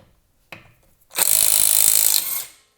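A SeeSii right-angle impact wrench, a compact motorcycle-sized tool, hammers on a 100 foot-pound lug nut. A short tap comes first, then a loud, steady burst of rattling impacts runs for over a second before stopping, with no talk.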